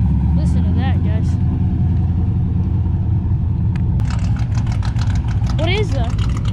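Corvette ZR1 with a 6.6 engine at Houston Raceway Park drag strip, a steady loud low rumble throughout with crowd and people talking over it.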